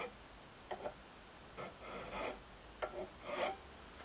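A hand file rasps over a piece of shaped beech wood in short, uneven strokes, a close scratchy grind repeated about five times with brief pauses between passes.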